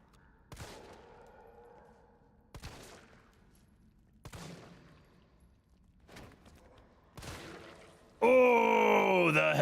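A gunshot headshot from the video game Resident Evil 3: several sharp, distinct shots land at roughly two-second intervals over quiet, then a loud burst of dense, harsh game noise takes over at the end.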